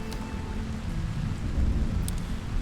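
Steady rain falling in the tavern-management game Tavern Master, a continuous hiss with a soft low rumble, without any talk.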